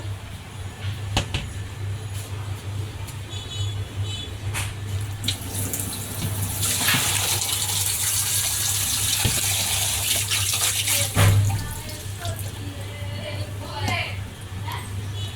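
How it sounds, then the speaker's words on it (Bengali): Water pours and splashes steadily for several seconds as boiled rice is drained, a running gush like a sink, with a low hum underneath and talk over it. "এখন আমি পানিটা ঝরিয়ে নেব।"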